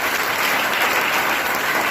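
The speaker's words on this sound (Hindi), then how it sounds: "हमारे देश के लिए एक बार जोरदार ताली" A large audience bursts into loud, sustained clapping, a dense even wash of many hands with no pauses.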